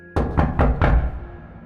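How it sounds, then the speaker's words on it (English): Four heavy knocks pound on a front door in quick succession, loud and booming, with a dull ring lingering afterward. "Someone was knocking hard, so hard it felt like they were trying to break in."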